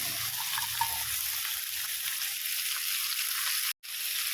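Eggplant pieces and bean seeds fry in a pan, a steady broadband sizzle with faint stirring clatter that cuts out for a moment near the end.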